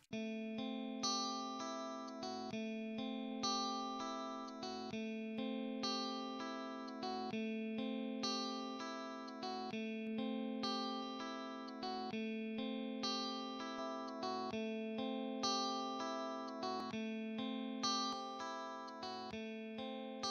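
A clean electric guitar plays a repeating arpeggiated pattern with evenly spaced plucked notes, bright and steady, with a slight processed amp tone.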